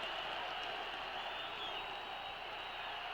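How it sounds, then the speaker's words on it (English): A football stadium crowd at Lambeau Field in 1978, Green Bay Packers hosting the Minnesota Vikings, a steady, distant roar of cheering fans with no breaks. "listen to the crowd. They're on their feet here at Lambeau Field"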